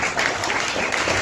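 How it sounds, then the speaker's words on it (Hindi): Audience applause for an older man at a wellness company gathering, a steady dense clapping that fills the whole moment without a break. "मदन जी के लिए एक बार जोरदार ताली।"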